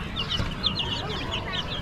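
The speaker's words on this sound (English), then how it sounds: "Some chicks." Chicks for sale at an Amish animal auction give off repeated high, thin peeps and chirps, fairly close and steady over a low murmur of background noise.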